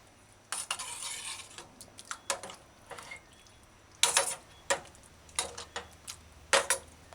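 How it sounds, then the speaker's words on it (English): A spoon stirs fish baked beans stew in a pot, giving irregular scraping clinks and knocks against the metal, some louder than others, with quiet gaps between. "Stir this fish baked beans stew"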